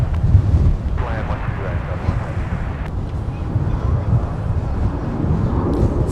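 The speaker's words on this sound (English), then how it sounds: "Fighting the wind a little bit." Strong wind buffeting a microphone outdoors at Minneapolis–St. Paul airport, a loud continuous low rumble and roar filling the whole stretch, close and unbroken.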